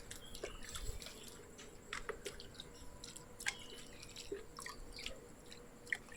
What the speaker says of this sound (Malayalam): ചെറുങ്ങനെ വെള്ളം കൈ കൊണ്ട് കോരി ഒഴിച്ചു കൊടുത്തു